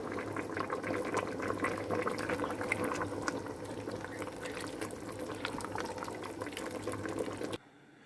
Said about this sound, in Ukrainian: пів годинки прокипіло і додаємо наш перчик. І ще варимо півгодинки.